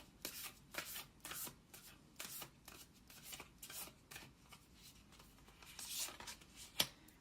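Tarot cards are shuffled and drawn in soft, papery riffles and slides, a quiet close series of rustling bursts with one sharper snap near the end.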